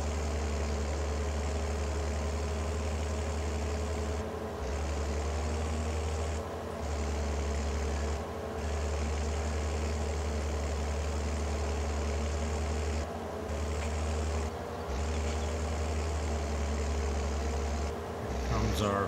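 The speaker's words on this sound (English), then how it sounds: "And our tractor's doing okay with it." A tractor engine runs steadily in Farming Simulator 22 while mowing and fertilizing a grass field, a constant low drone with brief dips every few seconds, loud and continuous throughout.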